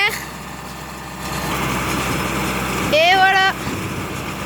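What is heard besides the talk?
tractor engine running with hay baler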